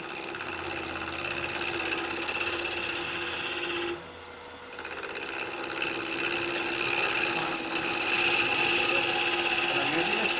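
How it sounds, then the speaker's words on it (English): A wood lathe spins steadily while a spindle gouge cuts into end grain, making a continuous hum and whir with a scraping cutting texture that dips briefly partway through. "I'm just going to turn end grain and level this bottom of this turning out"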